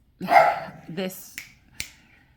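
Excited dogs barking nearby, a few sharp yaps and bursts spaced over a couple of seconds, mixed with a voice and a snap-like click.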